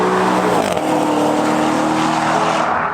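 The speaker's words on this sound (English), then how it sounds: "right now the exhaust tone is probably kind of right for the type of car it is" A Maserati GranTurismo with a Liberty Walk kit and straight-piped exhaust roars loudly and up close, its engine note rising and swelling continuously with a harsh, raspy edge.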